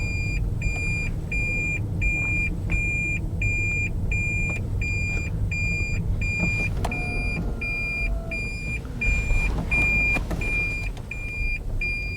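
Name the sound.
car being driven around the block to test brakes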